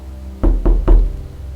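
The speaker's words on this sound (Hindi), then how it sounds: "किसी ने आरब के घर का दरवाज़ा खटखटाया" Three loud, close knocks rap on a house door at night, evenly spaced in quick succession, with quiet before and after.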